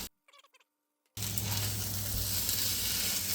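Street-style fried rice sizzles loudly and steadily in a hot pan as it is mixed, the hiss starting abruptly after a brief quiet moment and continuing unbroken.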